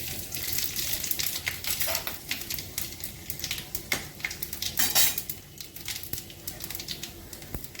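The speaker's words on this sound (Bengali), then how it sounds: "প্রথমেই আমি তিনটে শুকনো লঙ্কা দিয়ে দিলাম তেজপাতা দিয়ে দিলাম পাঁচ ফোড়ন দিচ্ছি" Dry red chillies, bay leaf and panch phoron crackle and sizzle in hot oil in a pan, with a steady frying hiss and sharp utensil clinks and taps against the metal.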